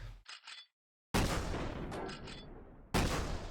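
Rapid gunfire aimed at an adult Nevermore boss in the Minecraft RWBY mod: loud, dense bursts of shots with a short silent gap near the start and a fresh volley at the end, all close and sustained.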